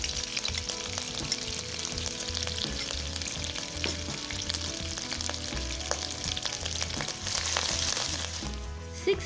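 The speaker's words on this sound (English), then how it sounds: "heat some oil, add 2 tablespoons of washed dried shrimp" Washed dried shrimp frying in hot oil for a Kam Heong sauce, a steady dense sizzle with occasional stirring scrapes and pops, moderately close and continuous with no talking.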